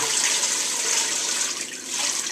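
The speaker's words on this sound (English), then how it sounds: "We're going to add water." Steady rush of water poured into a pot holding chicken pieces with onion, green pepper and garlic for soup, a continuous splashing stream without pause.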